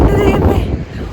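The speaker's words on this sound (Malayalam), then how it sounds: "ഭയങ്കര കാറ്റ്," Strong wind on the Great Ocean Road buffets the microphone in loud, close gusts that ease slightly toward the end.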